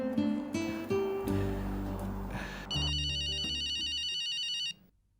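A telephone rings with a bright electronic warble, a few muffled clunks beforehand, then the ringing continues steadily before stopping abruptly.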